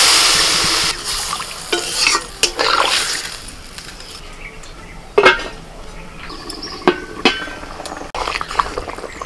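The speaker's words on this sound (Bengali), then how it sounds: "এবার জল দিচ্ছি।" Water poured into frying spices for a fish curry in a pan, giving a loud initial hiss and sizzle that fades to a low bubbling, with scraping stirs and occasional utensil clinks against the pan.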